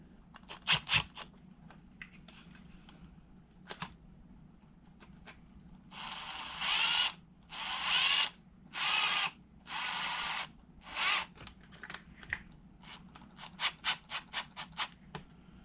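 Screws driven into a Kyosho MP10T nitro RC buggy during assembly, heard as clicky tool bursts and ratcheting ticks with several longer whirring drill-like runs in the middle, close and fairly loud with no talking.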